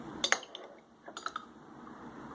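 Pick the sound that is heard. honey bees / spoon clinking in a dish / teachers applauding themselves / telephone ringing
spoon clinking in a dish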